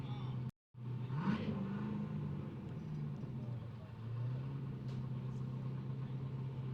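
A supercharged V8 drift car idles and burbles at a steady low pitch, a car at a Formula Drift qualifying event at Wall with a short gap in the sound near the start.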